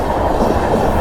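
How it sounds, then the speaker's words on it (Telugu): Long train rushing past at speed, a loud, close, continuous rumble and rattle of rail cars filling the whole moment without any talk. "చాలా పెద్ద ట్రైన్ ఇది."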